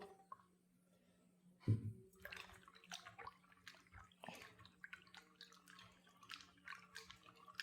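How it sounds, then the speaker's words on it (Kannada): Raw figs are washed in water, giving soft, scattered splashes and drips up close, with one louder plunge near the start, all quiet against a faint steady hum. "ಮೊದಲಿಗೆ ಅರ್ತಿಕಾಯನ್ನು ಚೆನ್ನಾಗಿ ತೊಳಿಬೇಕು"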